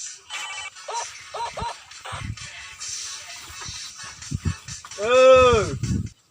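A telephone ringtone plays in a room as people talk and move about, with short repeated electronic chirps early on and a louder sustained ringing tone near the end.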